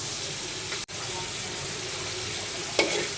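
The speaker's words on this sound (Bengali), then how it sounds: "এখন আমি সুন্দর করে মশলাটা কষিয়ে নিলাম" Spice paste for a taro and hilsa fish curry fries in a pan, giving a steady close sizzling hiss. A sharp click comes early and a brief scrape of stirring follows near the end.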